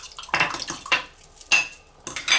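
Eggs being stirred into banana tea bread batter in a bowl, with a few quick scraping strokes and clinks of a spoon against the bowl, close and clear in short bursts, no talking.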